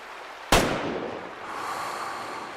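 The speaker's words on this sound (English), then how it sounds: "And the water splash behind it." A sharp gunshot-like crack from the African hunting video game Way of the Hunter 2, followed by a splash on water behind the target, a loud single impact that decays into a washy, rushing tail.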